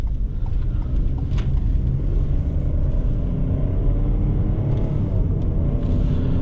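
Cabin of a 2021 Ford Bronco Sport Big Bend with the 1.5L engine on the road: a steady low engine and road rumble, with gentle shifts in engine tone as it changes gears and a few faint interior clicks.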